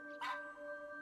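A pug named Bubbles in the video game That Dragon, Cancer gives one short, faint bark, set against a quiet steady tonal hum.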